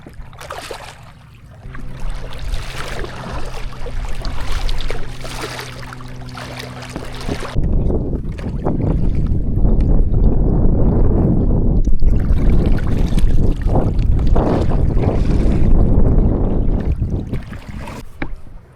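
A kayak on choppy Gulf water about two miles offshore, with steady broadband wind and water wash, a low tonal hum early on, then louder continuous splashing and buffeting through the rest.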